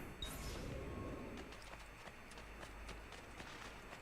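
Horse hooves clip-clopping at a steady gallop in Assassin's Creed II, a rapid, even beat of moderate loudness heard alone, with no talk over it.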